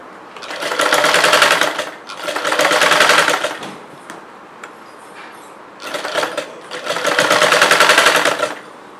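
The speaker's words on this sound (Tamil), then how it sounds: "இந்த தையலுக்கு மேலே ஒரு தையல் போட்டிருக்கேன்" Sewing machine stitching a chudidar, running in four loud bursts of rapid, even stitching with brief pauses between, close and alone with no voices.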